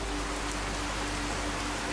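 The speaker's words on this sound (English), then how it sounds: "Rain is probably my favorite for TrueStorms." Steady rainfall in the game Fallout 4 with the TrueStorms weather mod, a constant, even hiss of drops that fills the whole stretch without pauses or voices.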